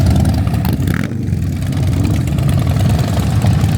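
A Harley-Davidson motorcycle engine at a classic car gathering in Mantes-la-Jolie, running loud and close, a deep steady idle rumble with a slight rev partway through.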